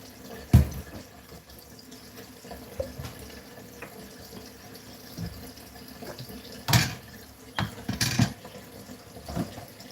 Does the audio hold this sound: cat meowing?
no